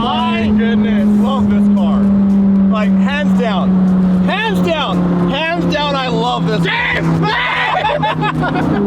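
A supercharged V10 Lamborghini engine revs hard and loud with a steady low drone, its pitch sweeping up and down repeatedly, while excited voices talk and exclaim over it throughout.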